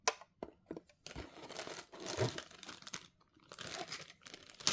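Crinkly plastic vinyl wrapping is handled and rustled while a children's day gift is unboxed, in irregular bursts of crackling close to the microphone, with short pauses between handfuls.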